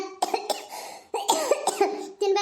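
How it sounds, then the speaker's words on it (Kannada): A person close by coughs repeatedly in harsh bursts, with short pauses between the fits. "ಇದು ಕೆಮ್ಮು ನೋಡಿ"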